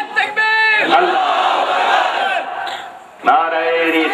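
Crowd chanting religious slogans at an Islamic sermon gathering in Hyderabad, India: a loud, massed chorus of voices shouting a sustained slogan, bracketed by a single leader's call before and after.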